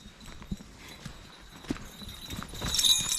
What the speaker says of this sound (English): They put horses and all in there to get rid of the ferns.